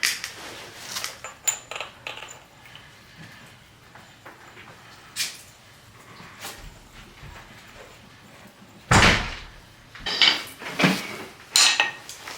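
A hammer strikes a socket stuck on a bolt while a Nissan 300ZX clutch and flywheel are being removed. Scattered metallic clinks and knocks lead up to several sharp, close clanging whacks near the end.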